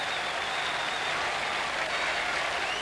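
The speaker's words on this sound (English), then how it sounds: "Rick Holden led the applause" Steady, dense applause from a large football crowd after a hat-trick goal in a 1991 League Cup match, a continuous wash of clapping and crowd noise that stays even throughout.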